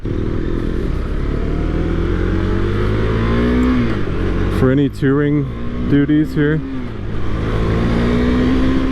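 A 2023 KTM 390 Duke motorcycle pulls hard in third gear during a test ride, its engine note rising steadily over loud wind rush, with someone talking over it and brief gear-change dips.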